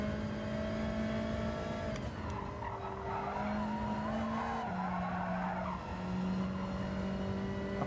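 Caterham PSR race car in Gran Turismo 7, a steady engine drone with shifting pitch as gears change, plus long tire squeals and skidding through corners, loud and continuous.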